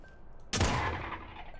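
A single loud, close gunshot with a sharp attack and a long rumbling decay fires in a video game, sounding alone without talk.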